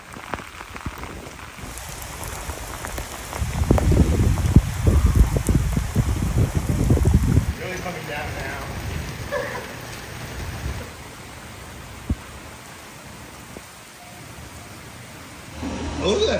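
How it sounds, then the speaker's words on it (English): Heavy rain from Hurricane Ian at Disney World, a steady wash of rain on surfaces swelling to a loud downpour in the middle, then easing to a softer patter with occasional drips. "the rain's starting to come down."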